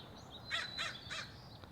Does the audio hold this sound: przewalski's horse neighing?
no